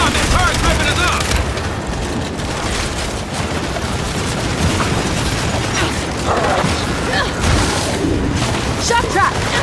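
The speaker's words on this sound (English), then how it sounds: "this turret's ripping us up" Heavy turret gunfire and explosive booms in the video game Gears 5, with rapid sustained bursts and impacts layered over combat noise for nearly ten seconds, punctuated by short sharp effects.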